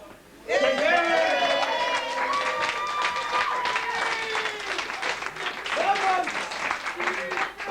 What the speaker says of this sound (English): give a round of applause to the usher